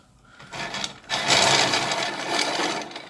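A continuous gritty rattling and rubbing of many bullets tumbling together in a coating mixture, growing louder after a quieter start.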